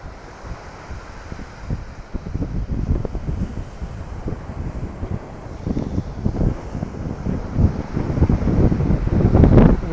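Ocean waves and steady wind at the coast of Ericeira, Portugal, a continuous broad rushing roar with gusts buffeting the microphone, swelling louder toward the end, no voices.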